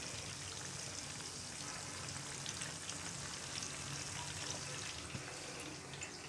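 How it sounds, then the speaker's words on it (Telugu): Chicken pakoda pieces deep fry in hot oil, a steady close sizzle and bubbling hiss running evenly throughout without pause. "ఇక్కడ చికెన్ ఏగుతుంది చూడండి, డీప్ ఫ్రై చేస్తున్నాను"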